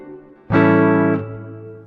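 Electric guitar through a Digitech Hardwire RV-7 stereo reverb pedal: a single loud sustained chord rings out, then fades into a lingering reverb tail.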